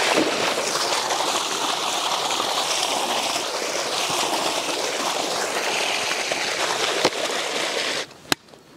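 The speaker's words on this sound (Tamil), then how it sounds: "மட்டனை நல்லா கழுவி எடுத்துக்கலாம்." Goat meat is washed in water, giving a steady, close sloshing and gurgling that runs on without a break before ending in a couple of sharp knocks.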